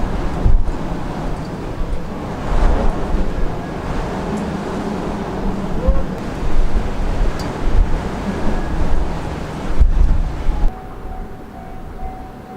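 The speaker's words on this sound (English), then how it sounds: "Coming from Ohio, the wind is just incredibly strong" Strong wind blows in loud, rumbling gusts that rise and fall, buffeting the microphone, with no voices heard.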